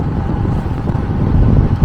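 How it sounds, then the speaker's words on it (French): Steady, loud wind buffeting across the microphone while cycling in a group of seven on a freezing day at minus two degrees, a continuous low roar with gusty surges and no voices. "Et là on a un peu le vent derrière, ça fait 40 km qu'on avait le vent de face"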